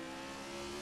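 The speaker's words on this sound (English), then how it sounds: "Listen to that roar. Down to first, just because I like the sound." A car engine drones steadily on a Nurburgring Gesamtstrecke track day, a faint, even tone heard from inside the car, alone without talk.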